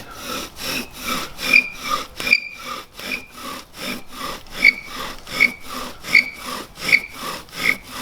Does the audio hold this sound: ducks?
no